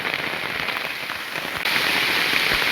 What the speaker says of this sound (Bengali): এত জোরে বৃষ্টি হচ্ছে